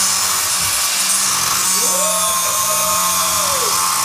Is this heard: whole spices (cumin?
no